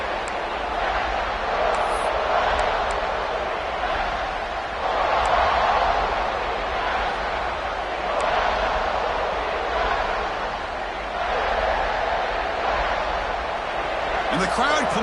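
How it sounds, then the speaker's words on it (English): A stadium crowd in the College Football 26 video game cheers in a steady, dense roar that swells slightly mid-clip, with a commentator talking over it throughout. "And the crowd coming to life here"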